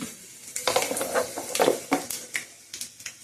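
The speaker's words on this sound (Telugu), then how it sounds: "ఎండుమిరపకాయలు అయితే వేస్తున్నాను" Dried red chillies with mustard seeds, chana dal and split lentils frying in hot oil, a steady sizzle broken by repeated scraping stirs and clinks of a ladle against the pan.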